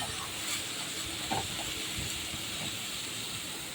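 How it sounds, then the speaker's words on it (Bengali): Steady sizzling hiss from a pan of vegetarian banana flower curry being stirred, holding an even level throughout with a few slightly louder bursts near the middle. "দেখুন আমি একদম সুন্দর করে নাড়াচাড়া করে নিচ্ছি ভালো করে"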